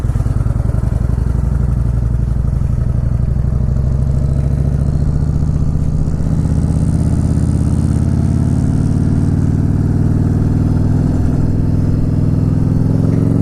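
A 20-year-old Harley-Davidson Evo V-twin motorcycle engine runs steadily up close and loud, with a deep throbbing rumble throughout and a slight rise in revs midway.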